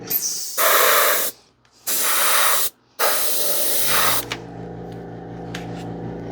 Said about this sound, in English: I may just hit it with another bit of the filler primer